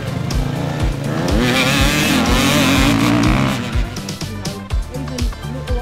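Off-road enduro motorcycle turning and accelerating on grass, engine revving loud and close with rising and falling pitch, then easing back into choppier bursts, with a voice talking over it.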